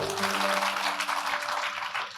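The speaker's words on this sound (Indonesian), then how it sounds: "Berikan tepuk tangan dong." Church congregation clapping during a sermon, a brief burst of moderate applause under a sustained musical tone that fades out near the end.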